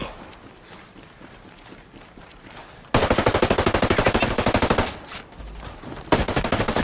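Enemy machine-gun fire in Ghost Recon Breakpoint breaks out suddenly after a quiet stretch, a loud rapid burst of evenly spaced shots that pauses briefly and resumes, close and dominant with no talking over it.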